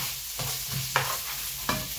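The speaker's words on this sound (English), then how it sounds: "So that's going to sizzle away for a little bit." Onions, peppers and chopped garlic sizzle steadily in a hot pan, a close continuous frying hiss broken by a few scraping stirs.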